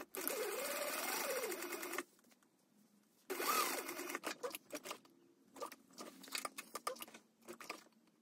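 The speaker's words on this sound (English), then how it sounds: "Go ahead and stitch it down." A sewing machine stitches down the handle of a handbag, a steady mechanical run of about two seconds, then another burst followed by short, uneven stop-start stitching bursts, close and fairly quiet.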